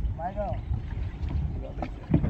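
A boat moves along the Jamtala canal, water and hull rumbling close with wind buffeting the microphone, and a brief voice-like tone early on.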